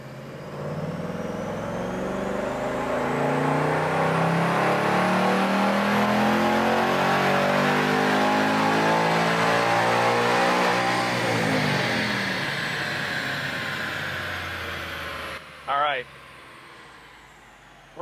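A 2024 Ford Mustang Dark Horse, with its carbon traps removed, revs hard through a full dyno pull. The engine note climbs steadily in a long loud sweep, then drops away near the end, and a short burst of another sound follows.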